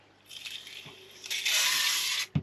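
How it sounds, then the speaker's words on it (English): Spray bottle misting live plants in a freshwater aquascape, two short hissing bursts, the second longer and louder, heard close and without talk, followed by a light tap. "not forgetting to give them a little spray"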